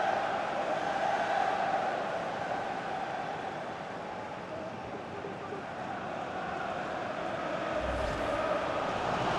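A FIFA 20 Champions League stadium crowd during a Liverpool match keeps up a steady, loud roar, a dense wash of massed voices that swells slightly and never drops away.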